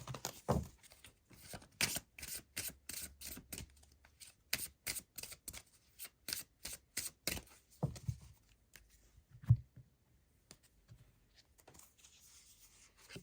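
Wicca Oracle cards being shuffled by hand, a close, quiet series of rapid riffling and rubbing bursts in a steady rhythm that slows and trails off into a few soft taps, with no talk.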